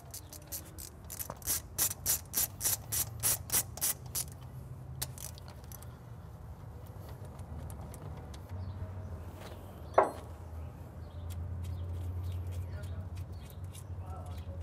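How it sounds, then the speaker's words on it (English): Ratcheting wrench clicks in a quick series while carburetor bolts are loosened on a Suzuki Bandit motorcycle during an SMI carb install, followed by a single sharp metallic tap and low workshop background noise. "We'll loosen up the bolts for the carburetor."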